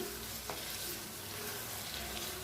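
Paneer being mixed into a cashew gravy in a pan, producing a continuous soft sizzle and bubbling with a faint stirring scrape, steady and close, no voices.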